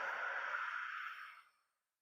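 A single long breath out through the mouth during a beginner Pilates breathing exercise, a steady close airy rush lasting about a second and a half before fading to silence.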